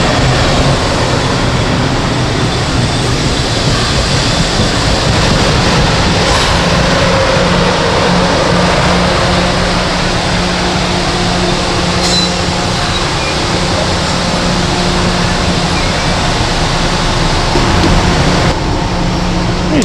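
An M9 commuter train on the Port Jefferson Branch rolls past in a steady, loud, broadband roar that holds for the full stretch without any voices.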